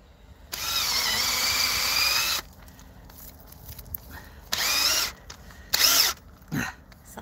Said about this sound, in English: So you have to drill upward 45 degrees so that the water will come out.